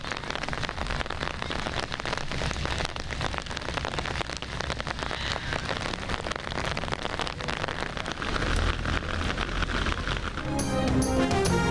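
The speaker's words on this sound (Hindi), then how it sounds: "कराची के मुख्तलिफ इलाकों में गरज चमक के साथ बारिश।" Steady rain pours over a street in Karachi during a thunderstorm, a dense, even hiss of drops on surfaces running unbroken throughout, with a few sharper splashes near the end and no clear thunder.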